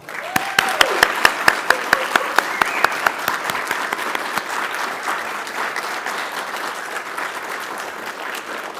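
An audience at a spring ROTC commissioning ceremony breaks into sustained applause, dense clapping that starts strong with sharp individual claps and carries on steadily, while a voice briefly sounds over it near the start.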